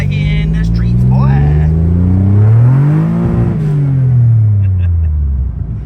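Honda CR-V with a swapped J35 V6 engine revving, loud and close, the pitch climbing and falling in long sweeps while a voice speaks at the start.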